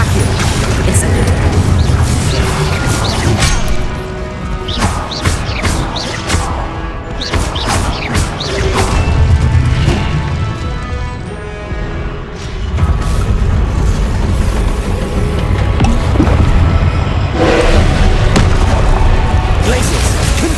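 Spell casts and explosions in the Hogwarts Legacy video game, dense rapid bursts, booms and crashes layered over a loud rumbling battle din, with a voice repeatedly shouting spell names throughout.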